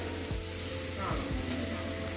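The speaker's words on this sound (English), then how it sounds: "then we will fry our fishes" Fish frying in hot oil in a flat frying pan sizzles with a steady, fairly quiet hiss, and a few soft low knocks land beneath it over about two seconds.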